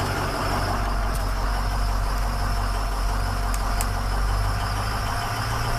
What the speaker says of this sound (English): letting me bump up the RPMs